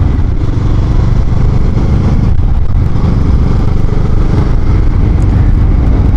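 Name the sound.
motorcycle engine while riding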